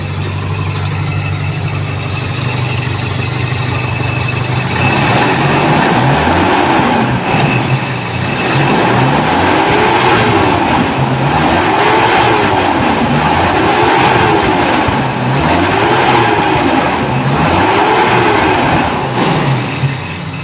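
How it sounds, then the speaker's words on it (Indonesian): A Toyota Kijang 7K car engine is started and settles into an idle, a loud close drone with a rhythmic, repeating surge in the running sound once it steadies. "Kita hidupkan lagi mobilnya. Mobil sudah stasioner."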